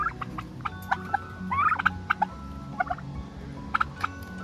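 Turkeys gobble and chatter in short, repeated bursts, several birds calling close by over a steady low background hum.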